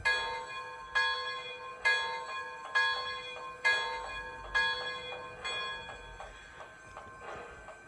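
Bell of an MTH PS 3.0 Imperial Empire State Express model train rings steadily in about eight evenly spaced clangs, each fading before the next, with no voices present.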